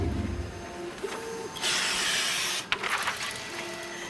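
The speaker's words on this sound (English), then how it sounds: "That's the sound of the printer printing out the gores." Printer running off black-and-white globe map gores, with a mechanical whir, a sustained hissing feed passage, a sharp clunk, and faint tonal hums from the motor, all at moderate level and with no voices.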